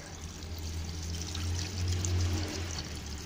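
Water pours and splashes steadily over honeycomb coal briquettes being rinsed, a continuous close rushing wash that swells slightly midway, with no talk.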